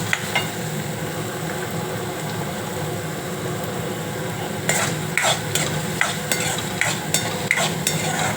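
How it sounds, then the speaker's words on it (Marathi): Finely chopped onion sizzling in a pan while being stirred, a steady close frying hiss with repeated scraping and clinking strokes of a utensil against the pan, growing busier halfway through, without speech. "आता कांदा थोडा शिजवायचा."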